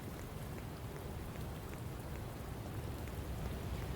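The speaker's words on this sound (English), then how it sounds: "Now since it's raining outside, I'm wet." Steady rain pours down in the Shadows of Doubt video game, a dense, even hiss of falling drops that stays loud and unbroken throughout, with no voices over it.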